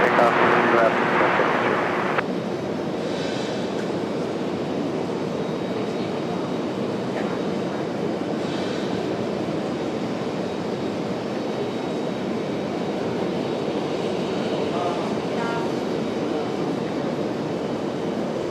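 Airliner taking off from runway 23 left at Raleigh-Durham airport, a loud broad jet engine roar rising and holding steady from a distance, with people talking nearby over it.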